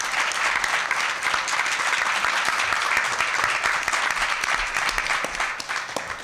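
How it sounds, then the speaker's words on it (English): An indoor audience at a court clerk candidate forum claps for the panelists, a dense, sustained round of applause that fills the space evenly with no voices on top. "How about a round of applause for all of our panelists?"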